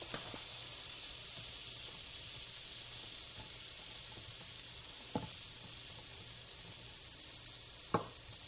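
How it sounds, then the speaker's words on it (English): Butter melting in a hot skillet, a steady quiet sizzle and crackle that runs throughout, with a few brief sharper clicks and taps near the end. "I'm going to go ahead and put my butter in the skillet."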